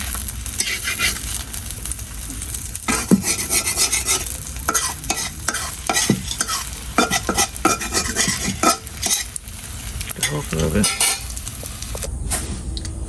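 A fried egg is folded and flipped in a pan with busy utensil scraping and tapping over a light sizzle, close and fairly loud throughout.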